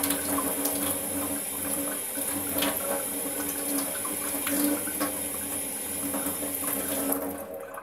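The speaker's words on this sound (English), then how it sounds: "We just have to rinse it." Water from a tap runs steadily as a guinea pig cage is rinsed, a continuous faint splashing flow with small clatters, no talk.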